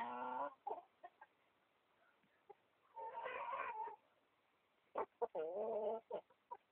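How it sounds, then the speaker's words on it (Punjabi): Shamo, a Japanese chicken breed, about eight months old, cluck and squawk in short bursts separated by quiet gaps, fairly close, with a few sharp clicks between calls. "ਸੂਰਜ ਭਾਈ ਹੈ ਮੁਰਗਾ ਜਿਹੜਾ ਵੱਡਾ ਹੈ ਇਹਨਾਂ ਵੱਡੀਆਂ ਮੁਰਗੀਆਂ ਦਾ ਭਰਾ ਹੀ ਹੈ"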